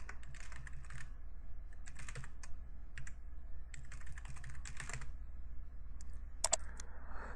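Someone types a password on a computer keyboard while setting up a local account during a Windows 8 install, with quick bursts of close, soft key clicks separated by brief pauses.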